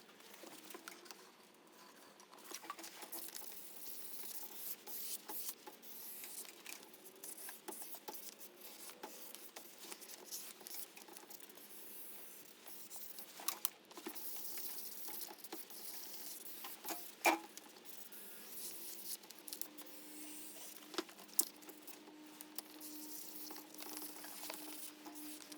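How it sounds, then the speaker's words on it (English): Headlight lens being sanded by hand with 1000 grit sandpaper, a soft steady patter of scratchy strokes running throughout at close range, quiet with a few sharper ticks, no talking. "Next step is 1000 grit sandpaper."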